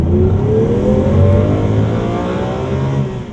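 A 2014 Lamborghini Aventador LP700-4 engine revs up loudly and steadily, its pitch climbing in a smooth rising sweep, then easing off slightly near the end.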